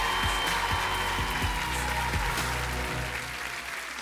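An audience at a French dance judges' battle final applauds the performers Dakota and Nadia. The clapping is steady and sustained, with music underneath and a few individual claps standing out, and it fades slightly at the end.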